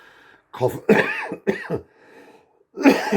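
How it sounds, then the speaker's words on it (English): Several harsh, close coughs in quick bursts, with a short pause before a final cough. "Coughing constantly"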